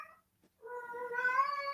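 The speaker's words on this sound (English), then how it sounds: "Here, kitty, kitty, kitty, kitty, kitty," A cat meows once, a drawn-out rising and wavering call that follows a brief faint sound and a short pause, close and fairly quiet, with no voices.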